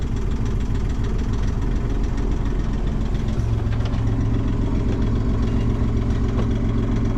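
Sailboat inboard engine idling aboard an Island Packet 320 during a battery charger test, a steady low knocking diesel rumble that holds loud and close throughout, deepening slightly partway through, with no talking.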